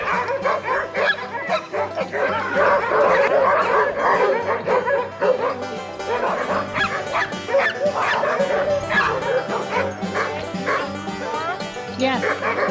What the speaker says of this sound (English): the other dogs that haven't got fed yet were very impatient. They kept on barking until they were fed.